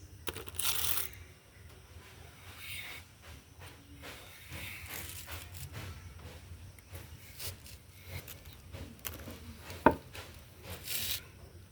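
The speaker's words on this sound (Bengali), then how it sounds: "আমি পেঁপেটা এভাবে কুটে নেব, লম্বা লম্বা করে, মোটা মোটা করে" Knife chopping papaya into long, thick pieces for a prawn curry with taro, heard as a steady run of soft, close cuts on a board with faint background hiss and one sharper knock near the end.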